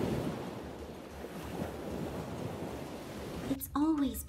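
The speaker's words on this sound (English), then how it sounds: "Isn't the ocean beautiful today?" Ocean surf rolls steadily against an island shore with a broad, continuous wash and some wind noise, and a high-pitched voice speaks briefly near the end.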